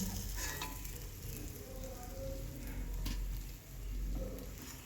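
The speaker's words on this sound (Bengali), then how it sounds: "তো মাছটা ভাজা হয়ে গেছে" Rui fish pieces frying in hot oil in a home kitchen pan, a steady close crackling sizzle with bursts of spattering that runs throughout, no voices.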